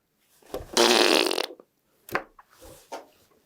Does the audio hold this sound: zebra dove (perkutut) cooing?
no